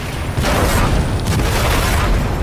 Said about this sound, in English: Now the Foch does actually get in a great shot